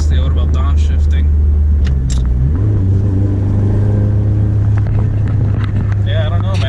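A 10th-generation Honda Civic Sport hatchback FK7 engine with aftermarket Hasport mounts drones low and loud as it downshifts, revs stepping up once midway, with a voice talking over it.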